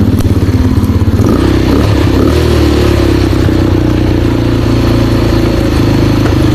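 A GY6 150 ATV engine runs steadily at idle for several seconds, a loud, close mechanical drone with a low throbbing pulse and light clatter throughout, no speech.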